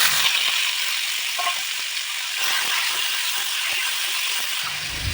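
Tomato pieces frying in oil in a pan for cabbage pachadi: steady bright hissing sizzle throughout, close and fairly loud, with small crackles and a stirring clatter near the end.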